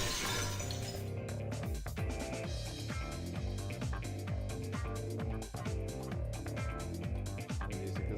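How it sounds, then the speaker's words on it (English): Glass shattering in the video game Fate/Extra: a burst of sharp crashing at the start, followed by repeated bright clinks and crunching strikes over a thumping musical backing, fairly quiet overall. "The sound of breaking glass is accompanied by a light cutting through the gloom."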